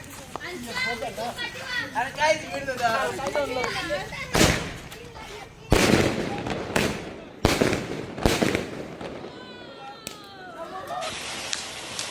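Firecrackers burst at night outside a hotel, a few loud sharp bangs over chatter and children's voices, with crackling bursts spaced a second or two apart.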